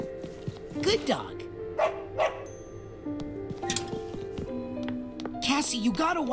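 A dog barking in the video game Psychonauts 2: several short bow-wow barks and yips with a whimper, mixed with game music and someone talking over it.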